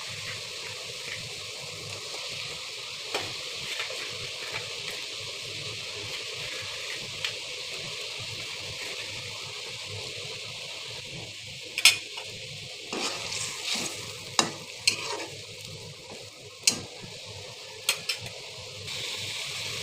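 Gule, dogra or chewa fish fry in a pan with a soft, constant sizzle, joined by occasional sharp clicks and scrapes as the pieces are stirred.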